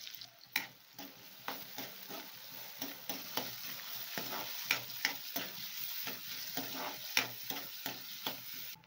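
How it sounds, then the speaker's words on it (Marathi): Chopped onions sauté in a pan over cumin and mustard seeds for a spiny gourd (kantoli) vegetable dish, giving a steady faint sizzle punctuated by repeated sharp scrapes and taps of stirring, with no talking. "आणि कांदा मस्त पैकी असा परतून घ्या."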